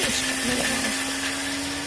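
Loud, steady whirring drone of a mixer grinder running at high speed, grinding sesame seeds, chili and coarse salt into spice powder, with no pauses and no voices.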